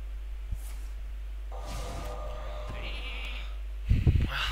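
A sheep bleats a few times amid game-like sound effects in Hearthstone, followed by a brief low thump near the end.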